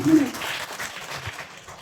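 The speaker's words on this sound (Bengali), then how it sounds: "তো ওনার জন্য একটা ভালো হাততালি" A gathering applauds Rakhi Sarkar in a short burst of clapping, blurred together with a voice and room noise.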